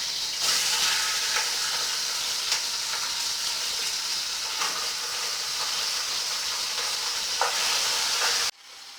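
Chicken hearts frying in a pan over high heat give a steady, loud sizzle and hiss, with occasional stirring scrapes and pops. The sizzle runs throughout and cuts off sharply near the end.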